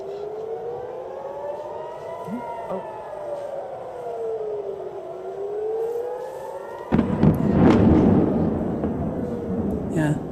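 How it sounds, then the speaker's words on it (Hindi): An air raid siren wails in slow rising and falling sweeps over Tel Aviv during an incoming missile attack, then a sudden loud, broad blast about two-thirds through gives way to a heavy, rumbling roar as the siren continues faintly beneath. "seeing the impact of those missiles striking buildings there this evening"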